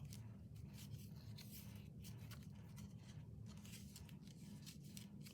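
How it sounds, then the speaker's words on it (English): Scissors snip through an overly long thread during an index-card craft project, giving a run of soft, quiet cutting and rubbing sounds close by with no talking. "I'm going to cut this thread because it's way too long"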